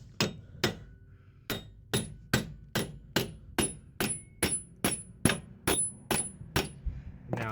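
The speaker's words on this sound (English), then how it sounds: "hit it with a brass hammer" Sharp ringing brass hammer strikes on metal while removing a Saturn Ion transmission, about fifteen blows in a steady rhythm, close and loud, each leaving a brief metallic ring.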